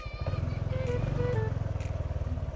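A motorcycle engine runs steadily close by as it is ridden along a route toward a forest, a low pulsing drone throughout with faint voices in the background.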